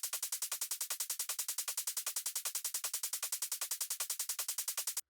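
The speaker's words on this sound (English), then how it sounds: "It's quite a clean hi-hat" A crisp hi-hat ticks rapidly and evenly, bright and clean, with no other sounds around it.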